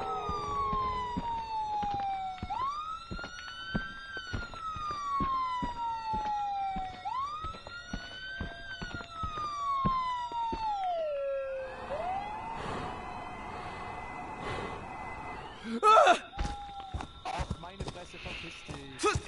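A siren in the video game Friday the 13th wails, sweeping up and down in long repeated cycles, then switches to a faster warble, with scattered clicks and a voice speaking over it.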